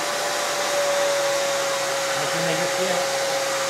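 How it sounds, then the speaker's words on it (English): Hair dryer warming the glue on a scuba dry suit neck seal: a steady, loud whooshing blower with a constant whine runs throughout while a voice speaks briefly beneath it. "But I've got a hairdryer here"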